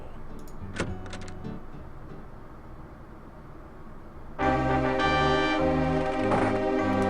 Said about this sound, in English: You push the Dark One sign into the indentation on the door.